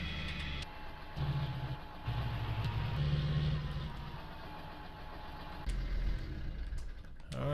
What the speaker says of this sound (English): There we go. Looks like we got it running now.